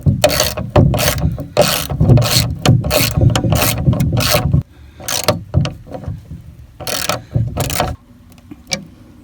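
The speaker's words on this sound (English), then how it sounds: "So I'm going to have to give me a ratchet or a wrench and get down here so I have enough room to screw them in." A hand ratchet driving lag screws into a 4x4 skid for a small wooden feed shed frame: loud, close, rapid clicking strokes in quick bursts, then slower, sparser clicks after a short pause.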